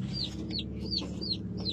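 A tame rooster gives five short, raspy clucks at an even pace, close and fairly loud, with no voices over them.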